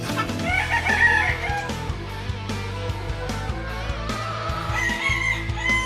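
Gamecock roosters crowing repeatedly on a small backyard poultry farm, loud and close, with overlapping crows and clucks from other fowl in the background.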